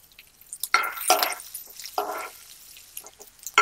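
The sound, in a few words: green chillies, curry leaves and dried red chillies frying in tempering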